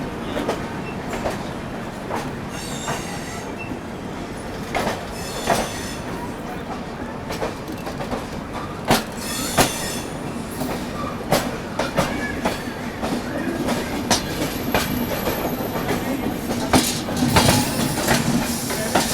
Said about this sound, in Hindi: अभी अपनी प्रयागराज हमसफर एक्सप्रेस निकल चुकी है नई दिल्ली रेलवे स्टेशन से।